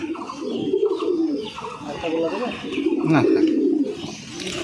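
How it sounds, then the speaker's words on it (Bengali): Pigeons coo repeatedly at close range, low rolling calls layered over one another, with faint chirps and a person speaking in the background. "গোলা লাইন হচ্ছে ফেমাস পায়রা"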